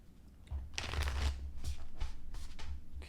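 A deck of cards being shuffled up close, with several soft riffling bursts in quick succession.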